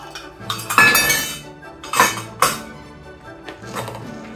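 Rolled oats added to a container and mixed in, giving a few bright clinks and scraping bursts of a spoon against the container, close and fairly loud, then quieter stirring.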